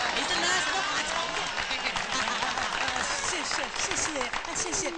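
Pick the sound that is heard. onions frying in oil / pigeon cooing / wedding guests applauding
wedding guests applauding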